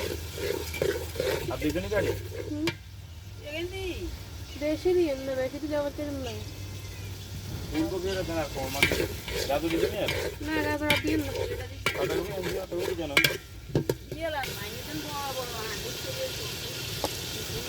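Garlic paste sizzles and is stirred into melted tomatoes in a pan at a village kitchen, with a steady frying hiss and repeated spoon scrapes while someone talks throughout.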